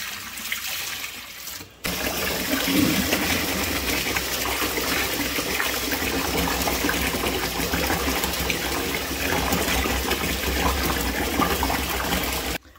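Water gushes and pours steadily for several seconds as it drains away from rinsed rice, loud and close, beginning after a brief quieter moment and cutting off at the end.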